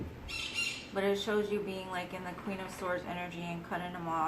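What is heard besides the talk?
pet birds squawking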